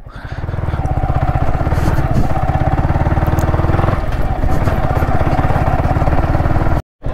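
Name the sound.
motorcycle riding before parking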